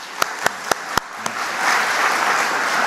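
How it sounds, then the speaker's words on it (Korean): A church congregation applauds its children: a few loud, separate claps ring out first, then swell into a full, sustained round of applause from the crowd. "우리 어린이들에게 박수 한번 해봅시다."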